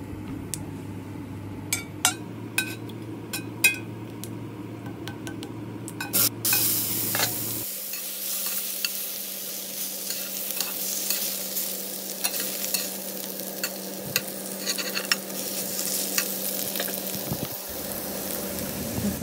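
Cumin seeds, bay leaf and whole garam masala frying in hot oil with stirring: a low hum and light clinks at first, then a sudden loud crackling sizzle that continues with brief utensil taps, nobody talking.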